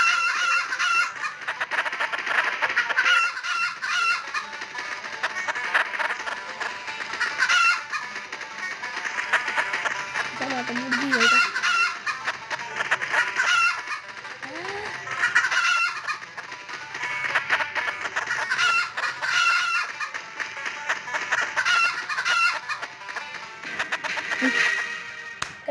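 Chickens in a video game chicken-catching round cluck and crow almost without pause, a loud, busy stream of fowl calls lasting the whole stretch.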